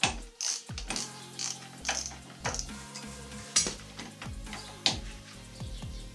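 Screwing a mount into the kickstand of a Honda 600 motorcycle: close metallic ratcheting and clicking in uneven bursts, with small knocks and scrapes of metal parts.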